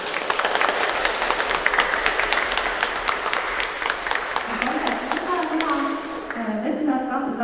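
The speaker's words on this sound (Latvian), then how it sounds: "Jā, tātad paldies Sofijā, aplausi!" Audience applause at a student organ class concert in a hall, steady clapping for several seconds that thins out near the end as a voice begins speaking.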